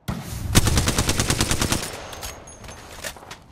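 Rapid automatic gunfire in the Apex Legends video game: a loud, close burst of evenly spaced shots that rattles on for over a second, then trails off into fainter scattered shots and echoing reports with no talk.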